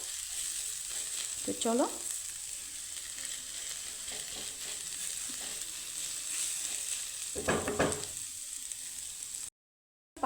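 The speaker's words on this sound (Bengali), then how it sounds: "এখানে কিন্তু আমার বাঁধাকপিটা কিন্তু ভাজা হয়ে গেছে, এখন আমি তুলে নেব।" Shredded cabbage fries in oil in a pan, a continuous, fairly loud hiss and crackle with occasional stirring, and a person briefly speaks over it.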